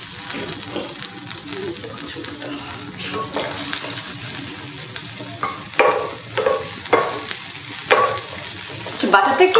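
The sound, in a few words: bread shallow-frying in butter in a pan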